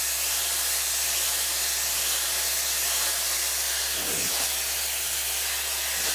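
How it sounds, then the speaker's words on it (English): A hair dryer blows steadily while a short wig is blow-dried with a brush, making a close, continuous airy hiss and roar throughout. "So the biggest trick to the blow drying is, like I said, taking your brush and actually going up and around, up and around."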